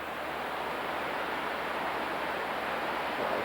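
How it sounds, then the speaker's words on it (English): Water roars steadily below the deck of a ship on an Alaska trip, a continuous broadband rush without breaks, moderately quiet and unaccompanied by voices. "roaring water"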